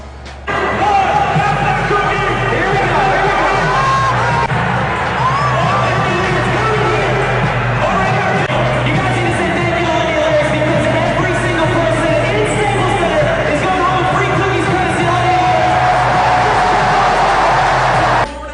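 A crowd of fans roars and cheers at a Sacramento Kings basketball game, with a loud sustained babble of voices, shouts and arena noise throughout.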